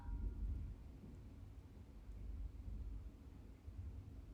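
Thunder crashes during a severe thunderstorm as a faint, deep, continuous rumble that swells and eases over several seconds, with no voices over it.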